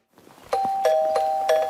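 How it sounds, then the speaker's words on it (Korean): A house doorbell rings during a quiet family meal, giving several sharp electronic chimes with sustained tones, close and fairly loud, with no talking over it. "집 초인종이 울렸어요."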